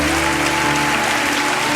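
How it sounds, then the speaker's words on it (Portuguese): A congregation at a women's church conference applauds in worship, a dense, even wash of many hands clapping with a low sustained musical tone underneath. "Você pode aplaudir o Senhor."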